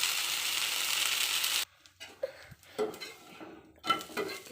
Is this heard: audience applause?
no